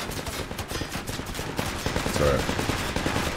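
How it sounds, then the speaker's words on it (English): Video game mortar fire in a jungle battle comes as a dense, rapid string of booming explosions and gunfire close by, with brief talk over it. "Fucking mortar."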